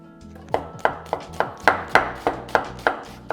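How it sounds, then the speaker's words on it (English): A knife dicing red onion on a cutting board, about ten crisp, evenly spaced chops close by, each with a sharp woody knock, and no talking. "And now you can get to dicing. And same thing for our red onion,"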